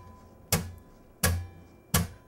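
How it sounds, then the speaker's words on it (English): Three sharp percussive chucks from a pick and palm muting the strings of an acoustic guitar, evenly spaced and fairly close, each a short dry hit with no voices. "it's kind of harder to get that chucking sound"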